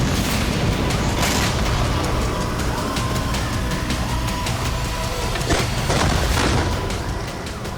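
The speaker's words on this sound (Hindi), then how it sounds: "इजरायली वायुसेना ने दक्षिणी लेबनान पर बमबारी की।" Israeli air force bombing in southern Lebanon sounds as a loud continuous rumble broken by a few heavy booms, with no speech.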